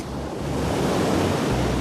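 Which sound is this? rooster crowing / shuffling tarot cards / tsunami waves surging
tsunami waves surging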